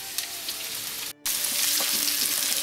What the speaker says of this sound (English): now I'm going to add the sliced mushrooms